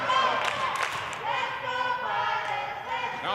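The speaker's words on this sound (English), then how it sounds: "Now the Pilots crowd is getting the cheer together." Crowd of Prairie Pilots supporters cheering together at an indoor men's futsal game against Millar Edge, a steady roar of many voices with bursts of shouting and thuds, continuing throughout.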